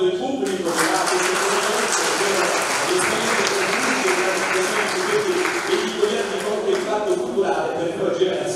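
An audience applauds loudly and continuously at an awards ceremony in Rome, a dense wash of many hands clapping throughout.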